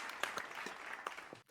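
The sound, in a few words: clapping sound effect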